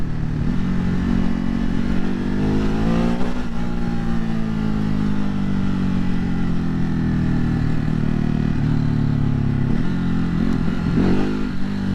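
A 2020 Ducati Hypermotard 950 SP motorcycle accelerates hard on the road, its engine note climbing steadily and loud throughout, with wind noise and no talking.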